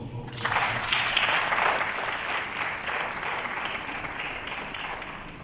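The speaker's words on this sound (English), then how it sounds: "if I could just have a big round of applause for you guys" Audience applause at a closing session of a business event, rising quickly to a full, steady clatter of many hands and then slowly thinning out as it carries on.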